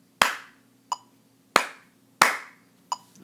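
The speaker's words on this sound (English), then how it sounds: "So I'm going to clap, I guess, the top rhythm first" Hands clap out a simple musical rhythm of quarter and half notes, five sharp, close, dry claps with uneven spacing in a quiet room.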